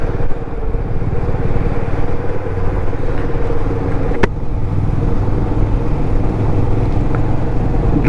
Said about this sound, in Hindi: ड्राइविंग इन अटल टनल, इसका भी एक अपना ही मज़ा है।